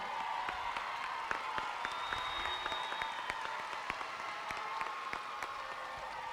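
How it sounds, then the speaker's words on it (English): An audience at a high school graduation applauds graduating students, with sustained clapping and crowd noise, individual claps standing out near the microphone, and an occasional cheer. "Let's give them a round of applause."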